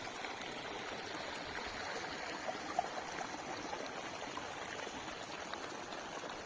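Hot spring water at Panamik in Ladakh's Sumur area flows downstream in a steady, fairly close rush with a constant broadband trickle and no pauses or voices.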